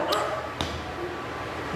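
A dog interrupts a church sermon with two sharp, brief yelps or barks, the first near the start and the second a moment later, heard at a moderate distance over a room's steady background noise.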